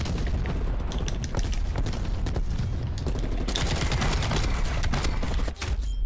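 Airstrike explosions rumble and boom continuously in a Call of Duty: Black Ops Cold War match, loud dense blasts overlapping with bursts of gunfire and no clear pauses.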